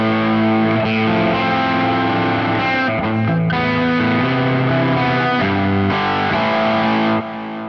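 A distorted electric guitar plays lead lines through a Quad Cortex modeler, loud and sustained notes with a thick, saturated tone, on its own without voices.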